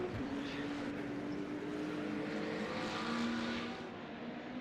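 Race car engines from the Le Mans Ultimate sim racing game, with a McLaren and BMW on track, drone steadily and loudly, a sustained tonal whine shifting slightly in pitch under light ambient noise.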